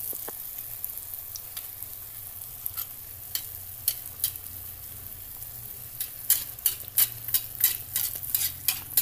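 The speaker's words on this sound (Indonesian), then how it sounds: "Kita siramkan dengan minyaknya secara perlahan-perlahan." Kue cucur cake batter frying in hot oil, with oil spooned over the top: a steady low sizzle broken by sharp crackling bursts that grow denser and louder near the end, no talking.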